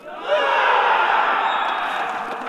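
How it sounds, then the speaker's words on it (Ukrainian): Spectators at a street football field raise a sustained, fairly loud crowd roar of mingled voices and cheering that swells quickly and holds for a couple of seconds. "чуємо, чуємо оплески на футбольному полі номер 2"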